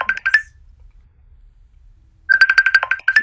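A phone ringtone from an incoming call plays a bright repeating electronic melody in two loud bursts separated by a short silence.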